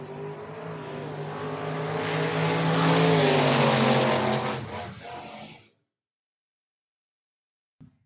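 An S10 and a Mustang launch off the line at a drag strip, engines roaring loud and rising over several seconds, then cutting off abruptly into silence.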